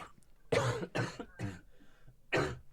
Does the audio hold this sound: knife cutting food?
no